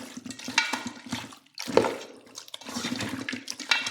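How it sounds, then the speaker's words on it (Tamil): Water poured into a pot of chicken curry being prepared in a home kitchen, a close, steady splashing stream that briefly pauses midway before continuing; no talking. "இது வந்து கொஞ்சமாக தண்ணி ஊற்றிக்கலாம்."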